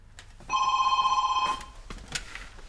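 Landline telephone bell ringing at home, one sustained metallic ring lasting about a second, fairly close and loud over quiet room tone, followed by faint background noise.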